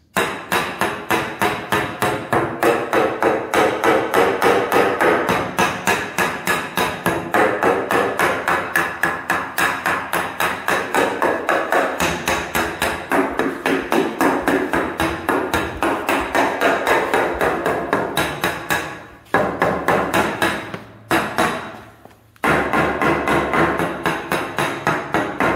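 Hammer repeatedly tapping a basement concrete floor slab near a cracked bearing wall, checking for hollow voids beneath; rapid, steady, loud knocks continue close by, with a few brief pauses near the end.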